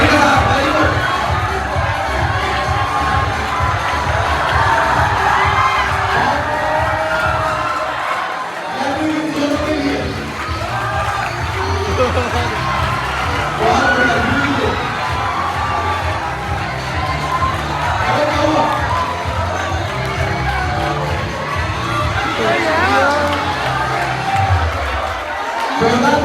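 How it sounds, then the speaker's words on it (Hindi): Students at a school farewell held by class 11 for class 12 cheer, shout and clap loudly as a crowd, with chatter mixed in and a brief lull partway through. "जोरदार तालियां मोहित के लिए।"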